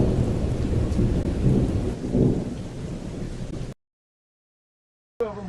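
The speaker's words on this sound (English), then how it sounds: "A mighty storm is on its way, slow but certain," A thunderstorm rumbles with steady heavy rain, thunder swelling loud and near, before the sound cuts off into silence and briefly returns at the end.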